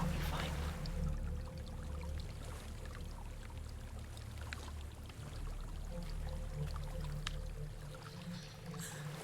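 A waterfall in the video game Hellblade: Senua's Sacrifice gives a continuous, rushing wash of water, steady and moderately loud, with small splashy flickers across the full stretch.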